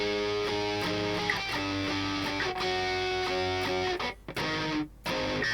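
Guitar playing a section of a song on a distorted electric tone, steady chords and riffs that change quickly, close and fairly loud, with two brief dropouts near the end and no voices.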